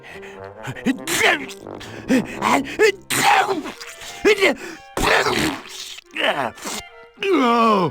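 A cartoon character in the adventure video game Toonstruck gives a short, explosive sneeze amid animated voice acting, with other characters talking and groaning around it.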